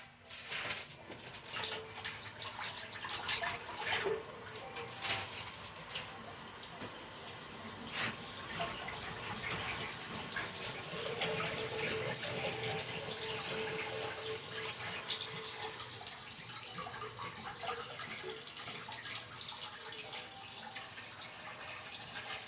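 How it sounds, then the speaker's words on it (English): Tap water runs steadily into a sink as a plastic piping tip is rinsed, with soft splashing and occasional louder spatters, fairly quiet and close, no one speaking. "And then I'll use this plastic end after I rinse out really well."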